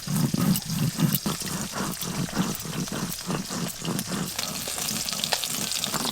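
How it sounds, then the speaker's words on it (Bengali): Small fish fry in hot oil in a close, continuous crackling sizzle, with a steady run of rhythmic stirring strokes through the pan. "সব মাছ লাল লাল করে বেশ ভালো করে ভেজে নিয়েছি"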